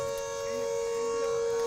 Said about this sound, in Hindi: जहां सुबह से ही इस तरह के सायरन बज रहे हैं।